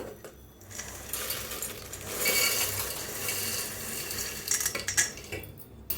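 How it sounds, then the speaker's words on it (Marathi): Boondi stirred into thick sugar syrup in a pan with the gas turned off, a steady wet scraping and clinking of a spoon against metal that swells in the middle and trails off near the end, with no talking. "छान असं मिक्स करायचं बघा पाकात"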